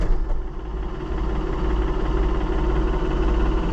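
Minneapolis Moline Jetstar 3 tractor engine running near 1,300 RPM, a steady low idle-like drone with constant vibration throughout, with no talk.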